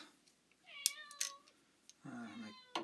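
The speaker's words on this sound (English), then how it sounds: "My cat wants attention whenever I'm doing something." A house cat meows a few times at close range during a washing machine agitator repair, with short rising calls, some sharp clicks and a longer, lower final meow.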